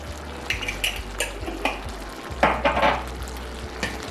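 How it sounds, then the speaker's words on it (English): A creamy coconut sausage and spinach sauce gets a final stir in a pan, with spoon scrapes and clinks against the metal over a low bubbling sizzle, a louder scraping burst midway, no talking. "Give it one last mix."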